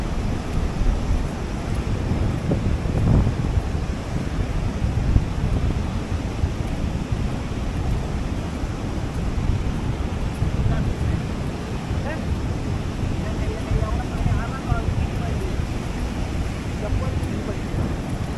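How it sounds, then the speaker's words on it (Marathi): Waves washing onto a shore in a constant surging rush, with wind noise and people talking faintly in the background. "लाटा इल्या इल्या इल्या, लाटा आल्या आल्या आल्या"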